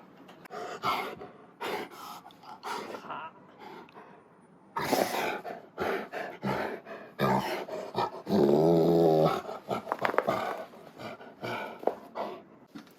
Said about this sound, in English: Interruption of silly dog.